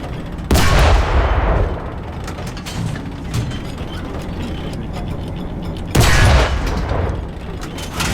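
Tank cannon fire in War Thunder, two loud, sudden booming shots a few seconds apart, each trailing off into a mechanical rumble and clanking under constant engine noise.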